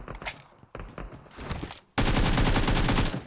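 In PUBG Mobile, an AK rifle fires in clusters of rapid shots, starting with short bursts, then breaking into a loud, sustained automatic stream for the last second and a half, close and dominant.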